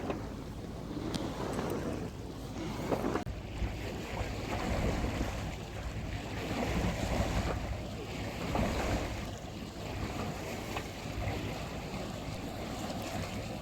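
A Westerly Seahawk 35 sailboat motor sails out into Mumbles Bay in calm air. A low engine drone sits under steady wash of water against the hull and gusty wind rumble on the microphone.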